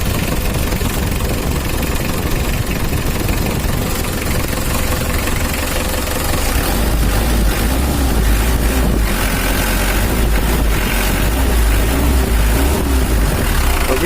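A Mitsubishi L300 diesel engine with low power and heavy fuel use idles steadily close by, a continuous low rumble with a slight knocking texture throughout, and no voices.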